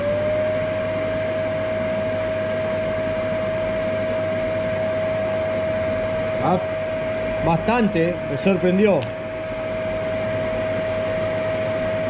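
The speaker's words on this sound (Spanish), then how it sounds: "Otro artefacto muy común, como es una aspiradora, en este caso de 1800 watts" A 1800-watt vacuum cleaner runs with a steady, loud whine throughout, and a voice speaks briefly over it near the end.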